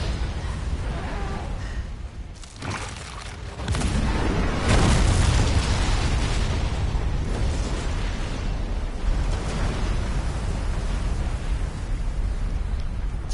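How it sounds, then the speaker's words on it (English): A bomb detonates in Resident Evil 2, a loud, deep booming blast that swells and then rumbles on as a dense roar for several seconds. "Dropping a death bomb."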